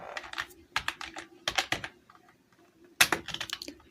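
Rapid bursts of keystrokes on a computer keyboard, clicking in quick clusters with short pauses between them, close and clear with no talking.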